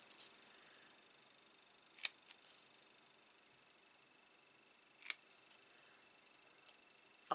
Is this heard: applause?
no